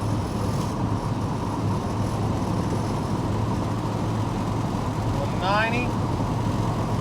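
A 1969 Chevrolet El Camino SS engine holds a steady 2,700 RPM, a continuous, even drone with a low hum and no speech over it.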